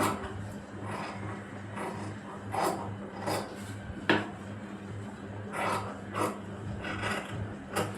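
Scissors cut through frock fabric during sewing, with repeated close snipping and rasping strokes at an uneven rhythm over a low steady hum.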